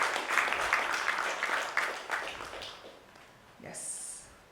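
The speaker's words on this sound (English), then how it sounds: "Let's give him a huge, huge round of applause, Mr. Sahoo." Audience at a procurement summit panel applauding a speaker, a dense burst of clapping that tapers off, then a brief voice and a faint high tone.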